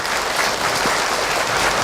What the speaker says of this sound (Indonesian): boleh tepuk tangan untuk Ahilman